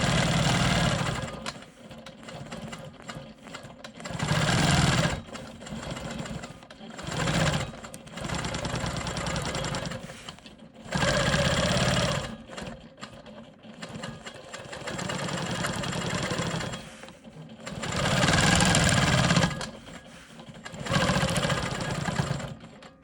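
A sewing machine quilting smoky swirls on a rolling stone quilt block hums in repeated bursts of fast stitching, each lasting a few seconds, broken by short pauses; close and loud, with no speech.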